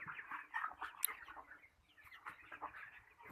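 Broiler chickens clucking softly in a poultry shed, a faint murmur of overlapping low calls with one sharp peep standing out.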